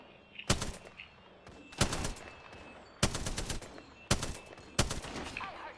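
Sniper fire in the video game Apex Legends: five sharp, loud shots spaced roughly a second apart, each with a short ringing tail, over quiet game ambience.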